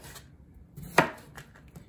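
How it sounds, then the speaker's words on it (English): A single knife stroke slices through a potato on a cutting board, one short crisp cut in an otherwise quiet kitchen. "we're going to slice these potatoes, not too thick, about like this"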